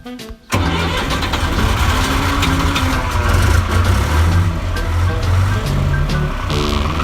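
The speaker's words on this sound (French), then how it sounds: "essayez de démarrer le tracteur là." A tractor engine cranks and catches after a brief quiet moment, then settles into a loud, steady rumbling idle nearby with no talking.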